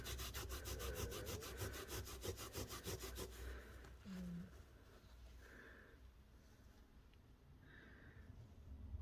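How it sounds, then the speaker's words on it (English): Rapid rhythmic scrubbing of carpet to lift tree sap, a close, brisk rubbing that runs for a few seconds then gives way to quieter movements and faint handling sounds. "I'm scrubbing it because I want to know if it changes the colour."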